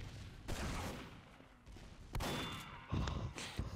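Rocket launcher fire in Team Fortress 2, several sharp blasts and explosions spaced a second or so apart amid busy game noise, moderately loud.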